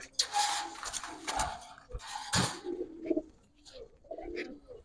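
Giribaz pigeons coo close by in a loft, a series of soft, throaty calls with brief pauses, plus faint rustling and a little background voice.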